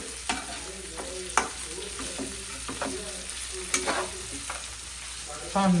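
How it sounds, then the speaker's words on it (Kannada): Shahjeera, fennel, cardamom and other whole spices fry in oil for biryani, a close, continuous sizzle broken by scraping stirs and a few sharp spatula clinks, with no talking. "ನಾವು ಹುರ್ಕೊಳ್ಳಿ, ಫ್ರೈ ಮಾಡ್ಕೊಬೇಕು ಚೆನ್ನಾಗಿ."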